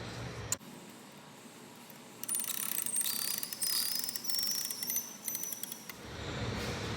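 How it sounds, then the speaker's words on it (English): A wrench ratchets while tightening the cable on a sports net, with a run of metallic clicks and creaks from the crank side pole, fairly close, with short pauses and no talk. "we can use the wrench to tighten it up."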